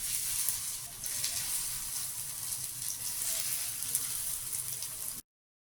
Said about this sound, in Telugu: ఇప్పుడు ఆయిల్ వేడెక్కాక మనం ప్రిపేర్ చేసుకున్న వీటిని ఫ్రై చేయాలి.